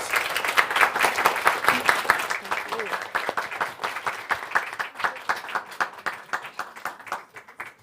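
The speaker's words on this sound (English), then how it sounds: "let's give Coleen another round of applause" An audience at a university lecture gives another round of applause for speaker Coleen Carrigan, an engineering and society professor; dense clapping thins out into scattered individual claps toward the end.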